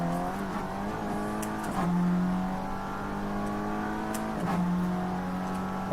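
Race cars in a two-hour endurance race on the Nürburgring Nordschleife roar past with a steady, loud engine drone, rising and falling in pitch as they shift gears and accelerate, with a faint tire squeal.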